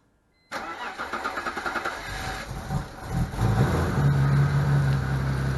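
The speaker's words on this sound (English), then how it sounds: "I'm going to start the engine for a couple seconds." A BMW E46 engine is started during transmission work: a brief starter crank catches at once and settles into a steady, close idle for several seconds, with no speech.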